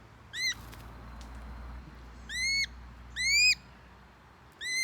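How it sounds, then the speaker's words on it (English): A netted bird at a banding station at Hilton Pond in May gives four sharp, rising whistled calls spread across a few seconds. Each call is close and clear over a quiet background, with a faint snap of its bill. "You can also hear the bill snap for this bird."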